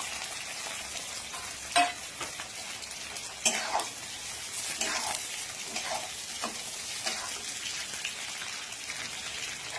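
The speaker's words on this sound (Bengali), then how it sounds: "এখানে কাঁচা লঙ্কা, রসুন, ক্যাপসিকাম এবং পেঁয়াজ কেটে রেখেছি। তো পুরোটাই আমি দিয়ে দিচ্ছি তেলের উপর।" Chopped green chilli, garlic, capsicum and onion fry in hot oil with a continuous crackling sizzle and a few sharp spattering pops. It is close and steady, with no talking.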